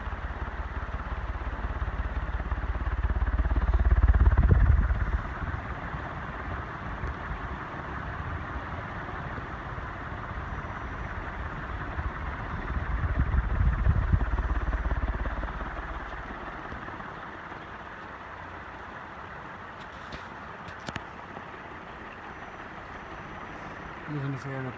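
An Envirofan Banvil Gold Line industrial ceiling fan motor runs with a continuous low, steady hum that swells louder twice before settling, heard close up.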